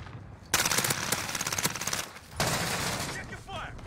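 Call of Duty automatic weapon fire: two long rattling bursts close up, separated by a short pause, with faint voices near the end.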